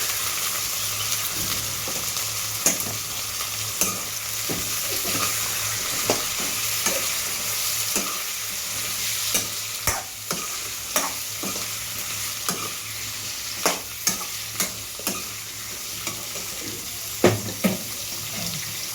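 Drumsticks being stirred into dal in a pan, a steady frying sizzle underneath with repeated scraping and knocking of a spoon against the pan, close and fairly loud, no talking.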